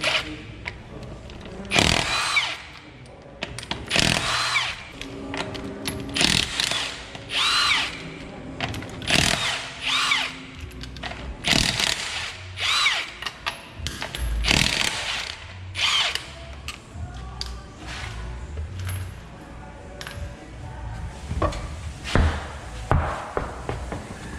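A power tool, likely an impact wrench, works off 21mm lug nuts on a Toyota Tacoma's front wheels, loud repeated bursts with clanks and pauses between them, close by and without talk.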